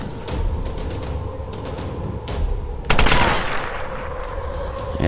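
Gunshots in Tomb Raider Definitive Edition on PS4, a few sharp scattered shots early, then a loud sustained burst of rapid fire from about the midpoint onward, close and dominant.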